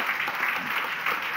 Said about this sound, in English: I think this applause, which hopefully comes now, is for you.